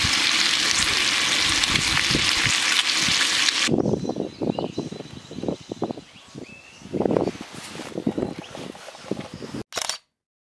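Bacon fries on a mini camp stove outdoors: a loud, broad sizzle for a few seconds, then an abrupt drop to quieter crackles, clatters and knocks, ending in a brief burst before silence.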